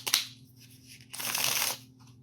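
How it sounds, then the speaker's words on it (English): A quick riffle of playing cards, a short crisp flutter followed by a longer rippling shuffle, close by and fairly soft. "Is this card shuffling still really loud?"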